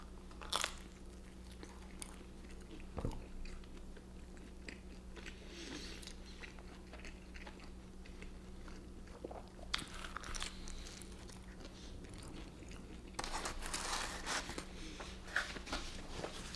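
Quiet close-up bites and crunchy chews of a Pizza Hut Big New Yorker pizza, New York style, come as scattered crisp crackles over a steady low hum, with no talking.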